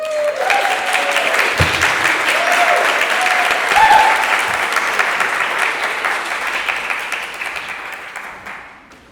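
An audience at an arts summit panel applauds as a speaker walks onto the stage, a loud, dense wash of clapping that holds steady for several seconds before tapering off near the end.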